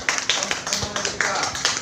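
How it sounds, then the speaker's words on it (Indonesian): Brief scattered clapping from a primary school classroom, a handful of children slapping hands in uneven bursts over background noise. "Tepuk tangan dulu."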